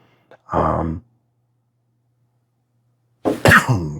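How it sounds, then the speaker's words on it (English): A short breathy sound is followed by a silence, then a sharp, close cough. "Caused me to cough, excuse me."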